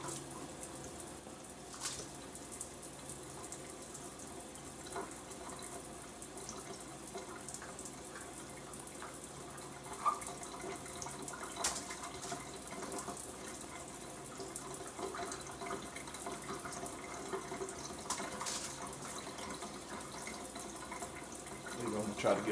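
Onions are rinsed under a running kitchen tap, with a steady, fairly faint splash of water that keeps going, broken now and then by small knocks and clinks.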